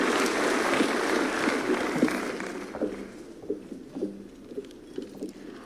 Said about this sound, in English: Let's give them a clap as they're coming.